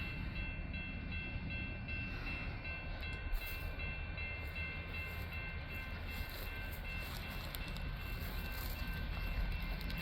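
A train passes at a rail yard in downtown Ardmore, Oklahoma, heard as a faint, steady rumble with some thin tonal whine for about ten seconds, distant and unbroken.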